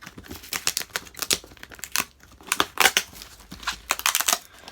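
A cardboard box pried open by hand, without scissors, producing a close, steady run of crinkling, tearing and scraping bursts with short pauses between them and no talking.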